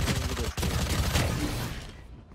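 Gunfire in Valorant, a dense burst of rapid shots filling the first two seconds before fading out, loud and close with no talk over it.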